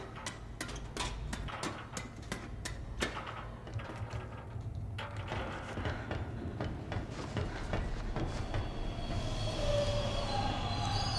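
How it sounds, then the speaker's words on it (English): Train in Bendy and the Dark Revival, a continuous rumbling rail noise with rapid regular ticking clacks, steady and fairly loud throughout, with metallic squealing tones creeping in toward the end. "there's the train."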